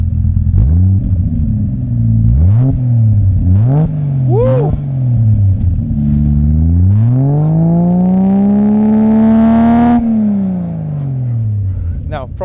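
A JDM Toyota Supra with a 600 hp 2JZ-GTE inline-six and an aftermarket exhaust, heard up close. A few sharp throttle blips give way to a long, rising rev that holds and then drops, and a person whoops over it.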